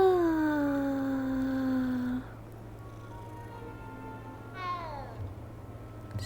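A cat in Hogwarts Legacy lets out a drawn-out, falling meow at close range, followed by a couple of softer, shorter mews over steady game background hum.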